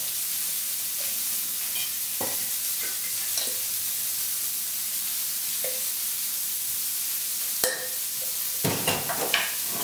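Potatoes sizzle steadily in a hot frying pan in a chef's kitchen, a close, constant hiss broken by a few stirring scrapes and clinks of the pan.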